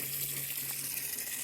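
Water pours steadily into a farm koi pond during a refill, a continuous broadband rushing hiss like an open hose or tap, close and even throughout with no talking.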